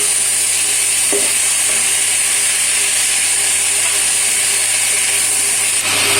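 Chopped green tomatoes for bhaji frying in a pan as they are stirred in, a bright continuous sizzle close by, with a few soft utensil knocks against the pan.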